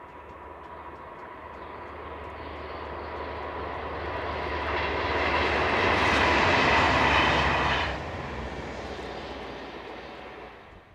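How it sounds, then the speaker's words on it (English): A three-car Class 599 diesel multiple unit heads south, its engine and wheels swelling from a distant rumble to a loud, close roar near the midpoint, then dropping sharply and fading steadily as it moves away. "this 3-car Class 599 DMU heads south"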